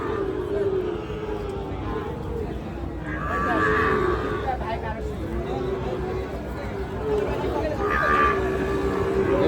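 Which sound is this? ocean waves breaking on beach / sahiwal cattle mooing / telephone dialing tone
sahiwal cattle mooing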